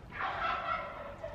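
Turkeys gobble in a steady, warbling chorus that stays fairly loud throughout, with no talking.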